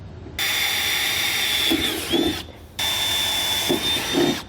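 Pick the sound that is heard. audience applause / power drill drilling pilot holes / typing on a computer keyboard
power drill drilling pilot holes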